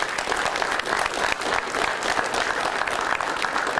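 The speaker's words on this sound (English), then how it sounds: "Let's give them a round of applause, please." Sustained applause from a sizeable crowd, dense clapping continuing evenly throughout with no pauses.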